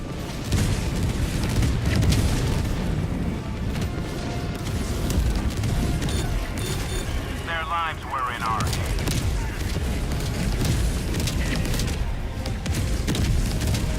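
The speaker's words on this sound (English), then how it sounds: "I'm gonna drop napalm on us." Repeated napalm strike explosions in Helldivers 2 roll out as a dense, booming rumble that fills the whole stretch, with a voice speaking briefly in the middle.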